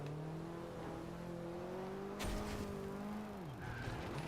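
A Ford Lotus Cortina in Forza Horizon 2 drives with a steady engine drone, revs rising and dipping as it shifts, with a brief sharp tire squeal and scuffing midway; no talk.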